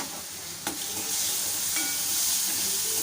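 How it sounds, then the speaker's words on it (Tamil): Grated ginger and carrot sauté in a pan with a steady, close sizzle, while a spoon stirs through them and scrapes once near the start. "எல்லாமே கொஞ்சம் வதங்கட்டும்"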